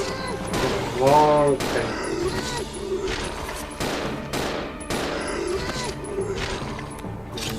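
In Resident Evil 0, gunfire rings out at zombies as a run of evenly spaced, loud shots over a game soundscape, with a brief voice in the clip.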